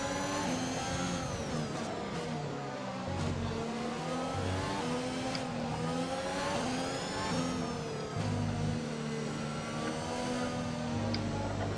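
F1 2021 race car engine, a sustained high-pitched whine that rises and falls with the revs through gear changes, loud and continuous with no speech.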